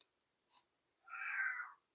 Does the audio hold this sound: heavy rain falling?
no